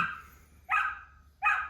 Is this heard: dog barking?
yes